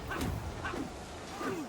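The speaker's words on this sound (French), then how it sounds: "Chouawa, le chien, qu'est-ce qu'il veut?" A dog barking in a medieval strategy game set in Iceland: three moderate barks spaced about half a second apart over a dense, steady background din, with no talk.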